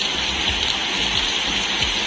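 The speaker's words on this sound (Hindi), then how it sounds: "अभी फिर धुआंधार बारिश हो रही है। देखो जस्ट स्टार्ट हो रही है अभी।" Heavy rain pours steadily outside a house during a downpour, a dense, continuous hiss close by with no talk over it.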